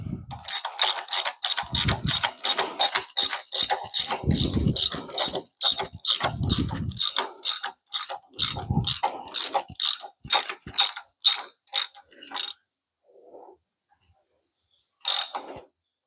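A socket wrench ratchets on rocker arms of a big block Chevy engine, giving rapid, evenly spaced metallic clicks in long bursts close by, with brief pauses and a final isolated click after a gap.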